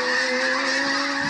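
A flock of snow geese honking in an autumn sky: a steady, dense chorus of many overlapping nasal honks, moderately loud and continuous with no other sounds.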